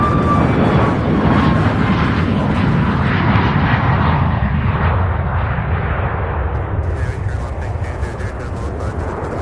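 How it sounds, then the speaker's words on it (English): A brand-new Boeing 737 MAX 8 airliner departs Louisville for Denver with a loud, steady, broad jet roar that fades slightly toward the end. "This aircraft here, the brand new 737 MAX 8, heading to Denver, Colorado."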